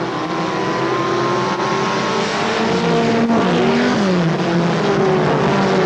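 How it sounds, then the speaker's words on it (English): Several mini stock race cars accelerate hard off a green flag restart on an oval track, engines roaring loudly and continuously with rising and overlapping pitches as the pack pulls away. "Green flag goes waving. Bookwater gets into the throttle. Whitsel into the throttle."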